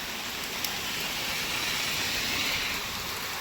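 Heavy rain pours steadily in an outdoor garden where papaya plants grow, a dense, unbroken hiss of falling water with no voices, loud and constant throughout.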